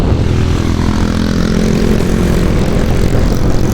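A KTM Duke motorcycle with an Akrapovic exhaust runs at a steady, loud, close engine drone while riding, with a deep rumbling tone and no talk.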